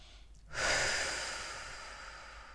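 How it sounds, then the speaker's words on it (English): A single deep, audible breath drawn in and slowly released during a guided breathing exercise, a long breathy exhale that fades gradually, close and alone with no talking. "It's a bit hard to talk at the same time as doing the breathing exercise."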